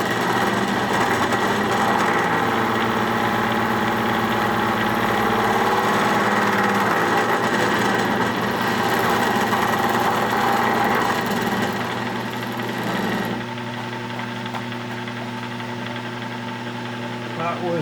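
A Schaublin 70 lathe takes an 18 thou milling cut with carbide tooling at about 700 RPM, a loud steady mechanical drone with dense humming harmonics running throughout, easing slightly quieter near the end.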